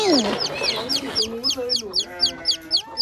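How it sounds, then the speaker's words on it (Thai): Domestic hens cluck in low bursts while chicks peep in a rapid, high, regular series of cheeps close by, on a farm. "และนี่คือลูกเจี๊ยบค่ะ เป็นลูกของไก่บ้านนะ แม่เขาดุมากเลย"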